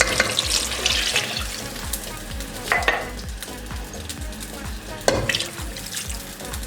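Two glasses of water poured into a pot of browned chicken and potatoes for a shorba, a splashing, hissing rush with gurgles and sizzling, close and steady for several seconds without talk.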